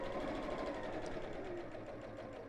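A sewing machine runs around the edge of a ladies' evening bag, a low continuous whirring hum, moderately close and steady throughout, with no voices.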